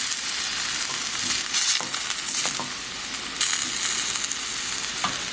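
Country pork ribs fry in their own rendered fat, crackling with a dense, continuous sizzle heard up close, broken by a few sharper spatters and pops, with no talking.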